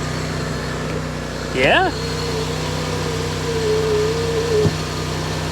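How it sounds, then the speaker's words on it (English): A car engine idles with a low steady hum, briefly revving once; a voice speaks a single word over it. "That exhaust sounds good."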